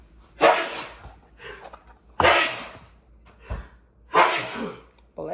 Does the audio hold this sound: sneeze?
yes